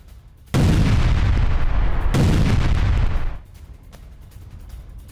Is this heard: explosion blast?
yes